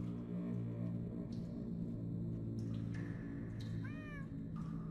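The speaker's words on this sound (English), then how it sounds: "That almost sounds like..." Cats meowing in the Minecraft Story Mode video game, a few short rising mews near the end over a steady low game soundtrack.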